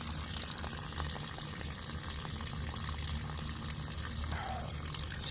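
Water drains from a Vevor 4.5 kW steam generator used for mushroom growing into a cup, a steady close liquid rush and splash that runs continuously without talk.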